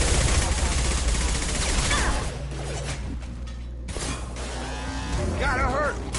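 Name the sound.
gunfire in the video game Mass Effect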